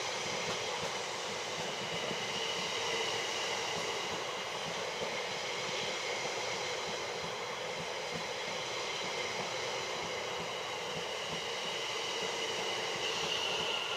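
A train at Guildford station on the South Western Railway, a steady loud rumble of wheels and carriages with constant rail noise throughout and no voices.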